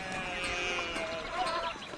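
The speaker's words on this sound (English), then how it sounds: "Look at all the sheep." Sheep bleating in the medieval video game Pentiment, a few soft overlapping calls heard faintly against a busy, steady game ambience with no talk.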